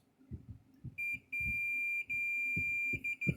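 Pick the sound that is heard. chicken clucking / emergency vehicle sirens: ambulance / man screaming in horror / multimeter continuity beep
multimeter continuity beep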